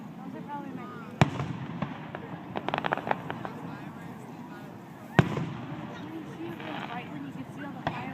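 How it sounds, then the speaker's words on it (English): An outdoor fireworks show in Festus, with several sharp distant bangs and brief crackling bursts over a steady crowd murmur. People nearby talk throughout. "right when you can see all the firework marks in the sky"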